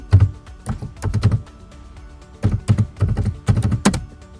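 A computer keyboard typed on in quick bursts to enter a folder name: clusters of crisp close key clicks, a pause of about a second, then two more rapid runs of keystrokes.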